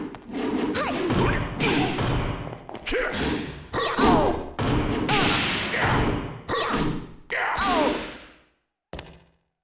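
Fighting hits land repeatedly in the Tekken 4 video game during a Christie versus Heihachi match: loud thuds, whacks and swooshes in rapid bursts over game voices and grunts, ending with a short pause and one final hit.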